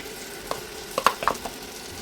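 Garlic paste drops into hot oil with mustard seeds, chillies and curry leaves for a mango pickle, giving a soft sizzle and a brief cluster of crackles and spoon scrapes in the middle, close and without speech.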